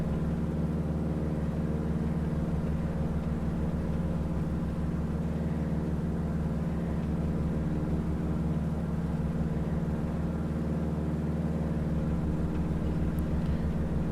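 Race planes at the Reno Air Races, a loud steady engine drone that holds throughout with no break, heard close and alone.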